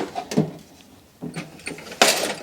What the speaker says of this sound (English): Now this is quite a heavy drawer.